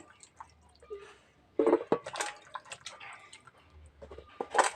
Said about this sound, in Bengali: সমস্ত আপেলগুলো আমি জলে ভালো করে ধুয়ে নিচ্ছি